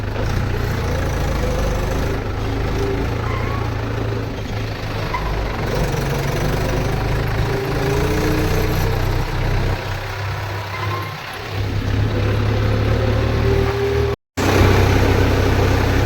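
Tractor engine running in a village, a loud, close, continuous low rumble with knocking vibration that stays steady throughout, briefly cutting out near the end before resuming.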